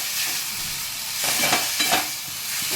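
Tomato, capsicum and curry leaves hitting a hot pan and frying over high flame, a steady close sizzle with brief louder bursts of crackle and stirring in the middle.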